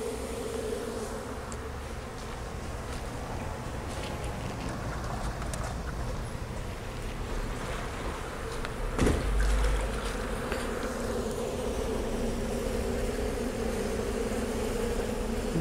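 Honey bees swarming around an open hive box while a queen excluder is fitted, a dense continuous buzzing drone filling the scene, close and steady throughout with no talking.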